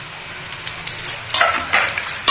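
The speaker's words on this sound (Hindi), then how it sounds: "और ये प्याज मिर्चा चूल्हे पे मैंने चढ़ा ली है पहले ही, और आग भी धीमी सी जला ली है।" Onions and chilies fry in a pan on a low stovetop flame with a soft steady sizzle, broken by a few louder bursts of stirring near the end.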